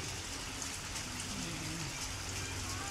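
Heavy typhoon rain pours steadily onto surfaces outdoors, a dense, unbroken hiss that fills the whole stretch at a soft, even level, with a faint voice murmuring underneath.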